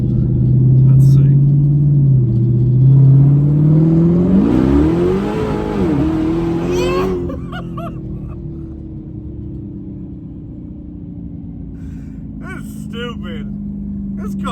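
Dodge Demon accelerating hard, the engine revving up through rising pitch with a loud roar from inside the car, then settling to a lower steady drone as a voice speaks over it.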